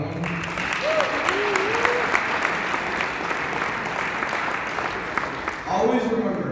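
Sustained audience applause rings out at a U.S. Navy-related ceremony, steady and dense for several seconds, with a few voices and a whoop rising over the clapping near the end.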